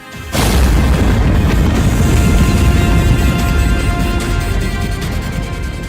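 A huge explosion, used as a sound effect in a report on the Russia–Ukraine war, erupts suddenly and rolls on as a loud, sustained rumbling roar with no voices.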